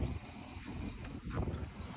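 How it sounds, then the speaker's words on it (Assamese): Wind buffets the microphone during an outdoor cycling stop in the town of Golaghat, Assam, a continuous low rumbling roar with gusty swells and no voices. "মজা বতাহ দিছে কিন্তু দেই"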